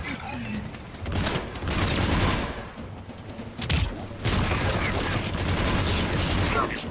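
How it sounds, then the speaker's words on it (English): Gunfire in the video game Mass Effect 3, with sustained bursts and rattling fusillades across most of the stretch, a louder crack midway, mixed with game voices talking over the combat. "Commander, I've got enemy contact. Under fire."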